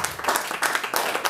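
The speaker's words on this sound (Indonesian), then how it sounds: "Berikan sorak-sorai buat Tuhan." Congregation at an Indonesian church sermon applauding and cheering, a dense wash of clapping and voices rising in brief surges, close and fairly loud.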